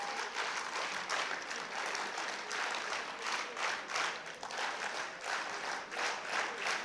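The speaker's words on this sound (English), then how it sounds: "Can we have the NSS clap and let's begin the second day?" A youth festival audience claps together in a sustained, steady burst of applause, dense and continuous throughout with no voices.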